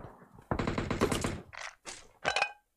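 Bursts of automatic gunfire in the battle royale game BGMI, a long rattling volley followed by three shorter bursts separated by brief gaps, fairly close.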